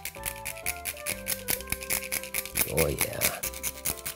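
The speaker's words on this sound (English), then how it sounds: "why not grate some fresh cinnamon?" Fresh cinnamon is grated for a hot buttered rum, making quick rhythmic scraping strokes close by, with a brief spoken remark near the start.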